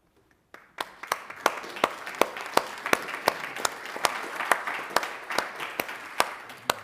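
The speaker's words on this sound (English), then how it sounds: "We should applaud even though she cannot hear us" An audience at a panel discussion on Zionism and Herzl's legacy claps after a brief silence. The claps are sparse, distinct and fairly evenly spaced, like a small group clapping at a moderate pace, with no talking.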